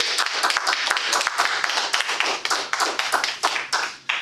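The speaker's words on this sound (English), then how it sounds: "big round of applause for Dan" A small Toastmasters audience claps for an evaluator, giving distinct, close individual claps in a brisk, uneven rhythm for about four seconds.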